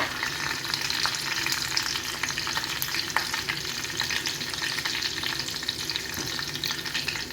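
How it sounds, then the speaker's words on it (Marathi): Garlic and curry leaves fry in hot oil with a dense, steady crackling sizzle that runs throughout, close and even, with small pops scattered through it. "लसूण लाल झालं की कढीपत्ता टाकायचा आहे."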